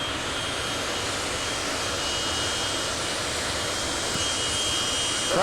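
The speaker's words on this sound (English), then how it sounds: "We got a little turbine to get him onto the track. Now he's going to fire the two main engines here." Turbine engines on a super modified pulling tractor at a Pro Pulling League event fire up into a loud, steady jet roar with a thin high whine, continuous and close.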